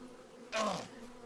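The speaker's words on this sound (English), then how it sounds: "There's a beehive up here. Does it have any bees in it?" Bees buzzing from a beehive in the fantasy game Balrum, a brief burst of droning insect hum that swells and fades within a second over a low background tone.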